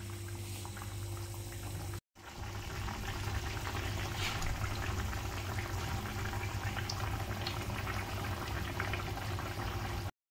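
Fish curry broth boiling steadily in a pot, a continuous bubbling simmer with a low hum underneath, briefly cut off near the start and then running on unbroken.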